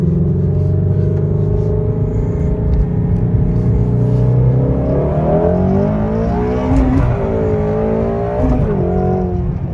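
A Shelby GT350 on Toyo R88R tires pulls away and accelerates, its engine rumbling loud and close inside the cabin, then rising in pitch through the revs with a brief shift-like dip, no voices present.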